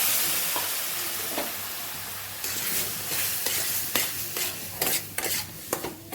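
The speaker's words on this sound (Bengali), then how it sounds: "হালকা করে জল দেবো আর নাড়বো" Semolina and water get stirred in a pan, a soft wet sizzle under repeated scraping strokes of a spoon that grow more frequent toward the end, close and without talk.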